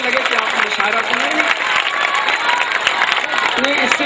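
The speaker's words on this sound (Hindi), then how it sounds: "मैं दोस्तों चाहता हूँ एक बार सब मिलके जोरदार एक बार ताली बजा दें" An audience at a 2009 poetry gathering in Narayanpur breaks into loud, continuous applause, thick and steady for several seconds while a voice carries over the clapping.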